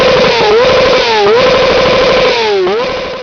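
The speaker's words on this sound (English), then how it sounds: "this inline 4-cylinder engine sounds absolutely amazing" A 2008 Honda CBR600RR inline four-cylinder engine revs loud and close, a buzzing high-pitched wail that rises and dips in several throttle blips without any talk.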